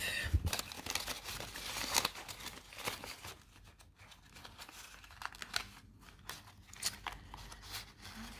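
A paper budget envelope is crumpled and handled close to the microphone, giving a run of crisp, irregular crinkles and rustles with no talking.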